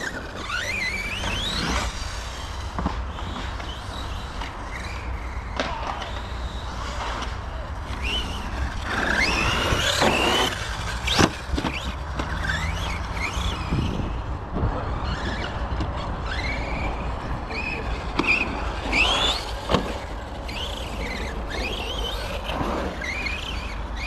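Small off-road RC car running over a pump track at the Btwin Village, still muddy and uncleaned, making a small unusual noise; a continuous whirring drive with surges, squeals and sharp clatters as it rolls and lands, nearby and fairly loud.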